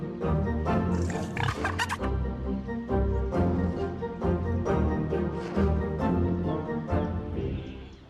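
Pigs grunt and oink repeatedly up close, a busy overlapping series of snorts and squeals throughout.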